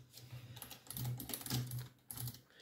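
Soft keystrokes tapped on a computer keyboard during Unity game development, a quiet run of irregular clicks in small bursts with no talking.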